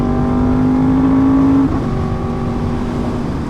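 A Yamaha R1M motorcycle engine revs loudly and close on the throttle, holding a high steady whine before the pitch drops as the revs shift.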